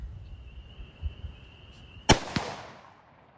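A 6.5 Creedmoor long-range rifle fires outdoors, a single sharp report followed a moment later by a fainter crack that trails off, after a steady high tone and quiet low rumbles.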